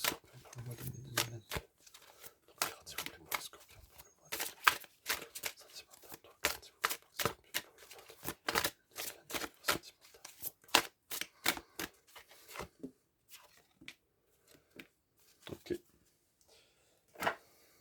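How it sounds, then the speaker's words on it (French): Tarot cards being shuffled at close range: a long, quiet run of crisp riffling and flicking bursts, each a short snap, in an uneven rhythm with brief gaps and no talking over it. "3 cartes s'il vous plaît pour les scorpions pour le mois de mai 2022"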